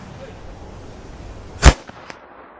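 A Pietta 1851 Navy .44 black-powder revolver loaded with paper cartridges fires a single loud, sharp shot after a quiet stretch, followed by a couple of faint short echoes or clicks.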